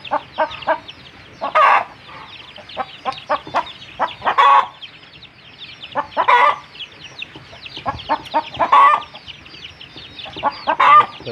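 Native village chickens, kampung fowl, cluck in repeated short bursts, with louder calls every couple of seconds over a steady backdrop of softer clucking. There is no talking.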